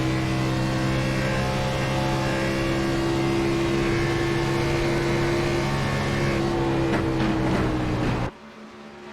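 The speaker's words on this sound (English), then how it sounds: "We can just hear race cars together for a couple laps, so you can hear what these SV8 engines sound like." SV8 race car engines in a sim racing game drone loudly and continuously with steady high revs, then cut off abruptly near the end.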